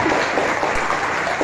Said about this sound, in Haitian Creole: On applaudit mon Dieu, s'il vous plaît.